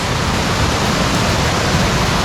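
A full cascade at Savage Falls in Tennessee, swollen after heavy rain, roars steadily close by, a dense unbroken rush of falling water with no other sounds.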